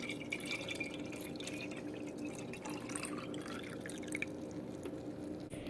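Collected storm water being poured, with steady quiet splashing and scattered drips throughout, close by and with no voices.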